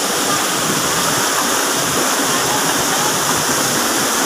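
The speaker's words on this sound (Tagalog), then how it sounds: "Lakas ng tubig." Strong spring water at Budlot Spring roars loud and unbroken, a dense steady torrent pouring close by.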